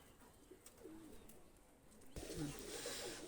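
A pair of Chinese pigeons coo in low, soft warbling phrases, faint and close-by, with a broad rush of background noise swelling partway through.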